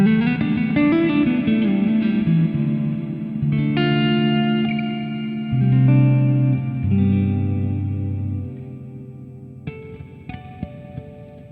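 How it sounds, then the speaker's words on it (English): Reverb from a Hotone Ampero Mini with dampening switched off, washing over guitar chords and single notes played through it; long, lush tails ring out and sustain between strums, fairly loud and alone, with no voices. "you turn the dampening off. Lovely, lovely reverb."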